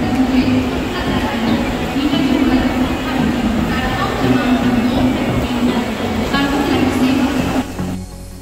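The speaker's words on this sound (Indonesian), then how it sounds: "ini suasana di dalam stasiun" Busy station ambience inside CSMT railway station in Mumbai, with a steady crowd wash and low rumble throughout, loud and close, easing off slightly at the very end.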